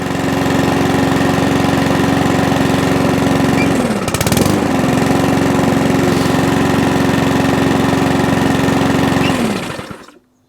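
A Mountfield HP45 petrol lawn mower engine runs steadily and loudly up close, briefly dipping and sputtering partway through before cutting out at the end.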